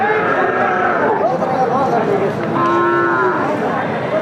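Cattle moo loudly nearby at a market for Sahiwal, Friesian and crossbred bulls, long low calls rising and falling, with several people chattering in the background.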